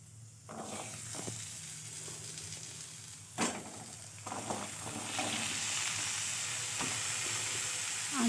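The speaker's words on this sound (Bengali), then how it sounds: "আলু কটা ভেজে নিচ্ছি।" Potatoes fry in a little oil in a wok on a gas stove for homemade ghugni, a soft sizzle that swells and grows steadier, broken by a few scraping stirs and clinks, close up with no talking.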